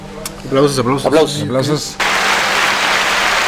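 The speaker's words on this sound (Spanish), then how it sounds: "Aplausos" Applause follows a spoken remark, a steady broadband wash of clapping that sets in abruptly and holds evenly loud to the end, after a stretch of talk.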